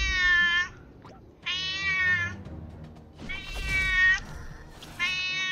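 A cat in the video game Captain Velvet Meteor meows several times in clear, drawn-out calls with short pauses between them, loud and close with no talk.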